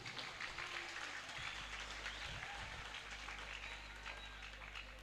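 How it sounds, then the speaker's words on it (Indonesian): Faint, distant applause rises from an audience at a Halal Bihalal gathering held by a Muhammadiyah vocational school. It is a soft, continuous patter with a low hum beneath it. "Aplaus yang meriah."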